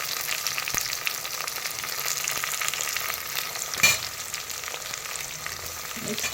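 Mint and coriander leaves sautéing in hot oil in a pan for vegetable chickpea biryani, a steady close sizzle and fry hiss with a brief stir clatter near the middle, no talk.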